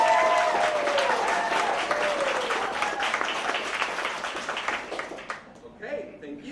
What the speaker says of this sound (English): then please applause now